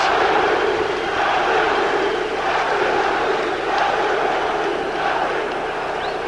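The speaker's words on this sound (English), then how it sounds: "And the crowd reacts." A mixed martial arts event crowd in Brazil roars and cheers in a loud, continuous swell of voices, with scattered shouts rising out of the dense crowd noise.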